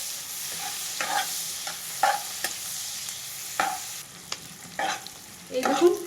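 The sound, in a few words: onions frying in a pan for Maggi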